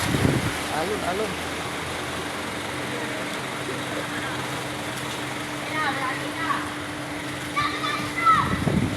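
Waves wash and splash continuously with wind noise, while children's voices call out faintly over the surf.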